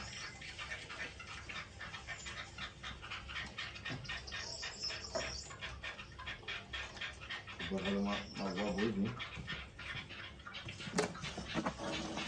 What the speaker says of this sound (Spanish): Ese pájaro que estoy escuchando